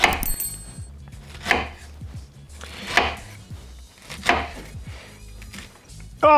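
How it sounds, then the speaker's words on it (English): Knife chopping grilled pineapple pieces on a board, with about five distinct, evenly spaced cuts, close and fairly quiet, with no talking. "Give it a bit of a cut, and if you learn how to cut nicely"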